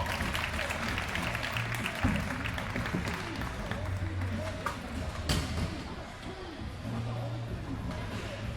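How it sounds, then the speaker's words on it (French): Audience applause at an amateur final of a horse-riding show, a steady wash of clapping with a few sharper claps and hoof-like knocks, carrying on through the whole stretch at moderate distance with crowd noise around it. "Applaudissements."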